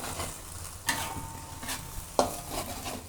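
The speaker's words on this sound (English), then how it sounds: "mix the ingredient until it's cooked" A spatula stirring seblak ingredients in a pan: two sharp scraping clacks of the utensil against the pan over a soft background sizzle, close and quiet, with no talking.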